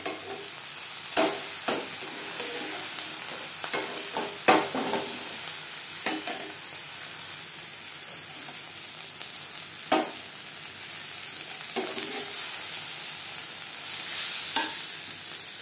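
Fish fries in a pan over a gas flame with a continuous sizzle, and a utensil scrapes and clinks now and then throughout.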